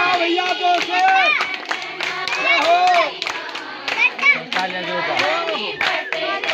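A group of people clap along while children's voices chatter and shout over them, the clapping scattered and irregular rather than in unison.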